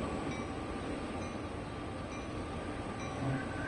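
A very long freight train rolls steadily along Sherman Hill in Train Sim World 2, giving a continuous low rumble with faint rail noise and occasional light squeals, with no talking.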